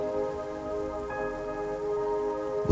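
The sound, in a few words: gentle rain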